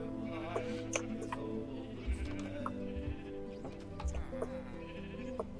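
Minecraft sheep bleat several times from a farm pen, short nasal cries in repeated bursts, fairly quiet, over a low steady game background with a few soft clicks.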